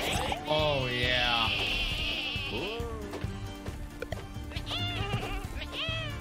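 Sheep bleat in the video game Lumberhill: a loud, wavering bleat near the start, then several shorter, fainter bleats later, over busy game music and effects while a voice talks.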